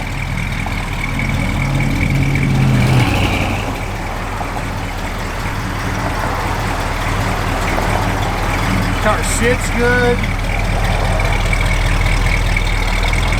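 A 1967 Pontiac GTO's deep, rumbling engine idles steadily and loudly throughout, with someone speaking briefly over it.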